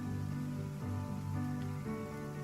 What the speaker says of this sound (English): the rain here sounds fantastic